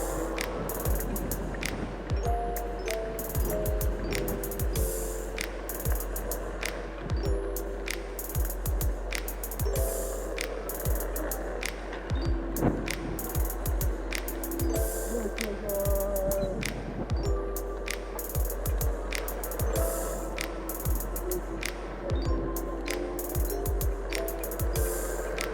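Planetary gear motor on a bicycle whirring steadily with a continuous mechanical ratcheting hum, close and loud throughout without talk.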